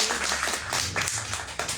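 Members of a church congregation break into brief clapping and applause, a dense patter of hands that rises and falls over less than two seconds at moderate volume with no talking.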